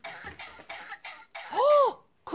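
An interactive baby doll gives a series of short, dry coughs in a quick rhythm, close by, followed by a brief squeaky vocal sound near the end.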